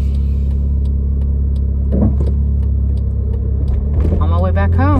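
A car's low engine rumble and road noise hum steadily from inside the cabin while someone talks over it.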